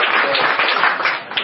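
A church congregation applauds together, a steady wash of many clapping hands held at an even level for a moment.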